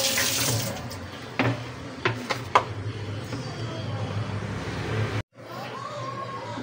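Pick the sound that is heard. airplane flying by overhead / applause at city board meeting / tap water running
tap water running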